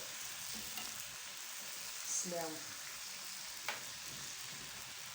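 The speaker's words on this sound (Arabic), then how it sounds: "نخليو اللحم يتشحر مزيان" Steady frying sizzle of meat browning in a pan for a Moroccan tagine, loud and close, with a brief voice and a light clink of a utensil partway through.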